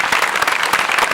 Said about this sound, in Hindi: तालियां बजती रहनी चाहिए एकदम शुरू से अंत तक।